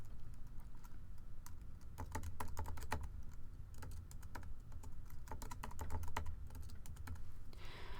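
Keys clack steadily on a computer keyboard as a password is entered, bursts of quick close taps with brief pauses, no voices.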